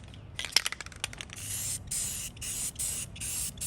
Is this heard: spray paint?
yes